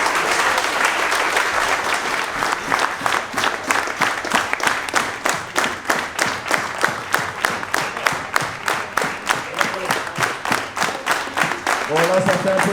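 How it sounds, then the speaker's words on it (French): Sustained applause from an audience at a 12-hour endurance event, dense steady clapping running throughout with rhythmic peaks, and a voice briefly heard near the end. "on va faire une petite minute d'applaudissements pour notre Alexis chéri"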